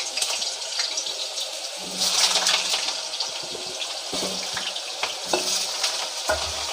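Potato pieces fry in hot oil in a pan for a spicy chicken potato masala, a steady close sizzle with occasional stirring scrapes and clinks, with no talking.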